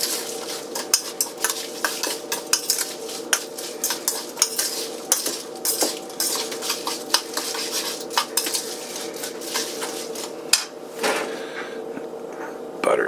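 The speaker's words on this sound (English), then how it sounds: "Give this a stir." A utensil stirs melting butter in a cast iron pan, scraping and clinking against the metal in quick irregular strokes, close and steady throughout, over a soft sizzle.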